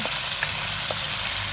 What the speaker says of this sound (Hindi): प्याज को थोड़ा सा मैंने फ्राई कर लिया